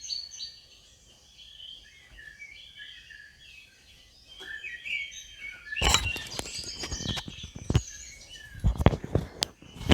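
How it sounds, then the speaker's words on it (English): Birds chirp and tweet softly outdoors in a light, scattered chorus, then louder close handling noises and thumps break in over them. "focus on the sounds of the birds"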